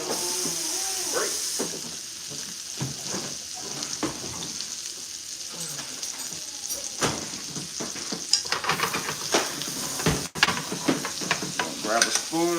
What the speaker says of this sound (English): We're just gonna start basting our salmon. Get all that butter, all that extra flavor.